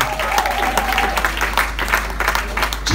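Applause from a crowd at a wedding, dense and steady clapping throughout with a brief tonal hum underneath early on.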